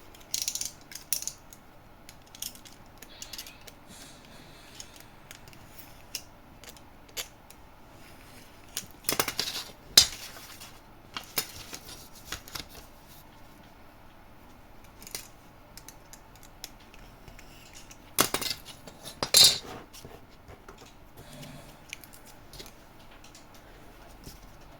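Scissors snip through paper while making a vintage library-style scrapbook album, a few short, faint cutting bursts scattered among soft handling clicks in a quiet room.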